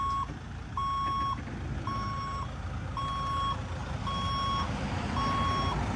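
A 2006 Dodge Sprinter van's reversing alarm beeps steadily, six evenly spaced tones over low engine rumble.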